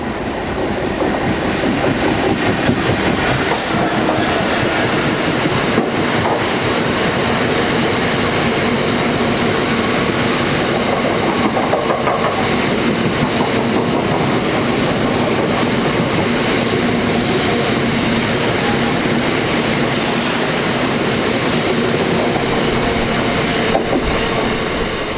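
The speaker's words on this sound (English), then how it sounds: "it is on these National Rail lines that you may be lucky enough to see some freight" A freight train rolls past on National Rail lines beside an Elizabeth Line station, a steady loud rumble with rhythmic clickety-clack of wheels over rail joints and occasional metallic squeals, sustained throughout with no talk.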